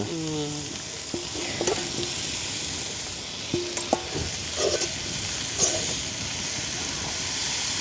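Chopped greens are sizzling in hot oil in a pan at a village cook-out, with a steady frying hiss and a few scrapes and clinks as they are stirred, close and unaccompanied by talk.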